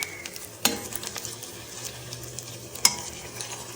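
Eggs fry with a soft, steady sizzle in a stainless steel pan. A few sharp clicks and scrapes from a utensil pushing them around stand out close by.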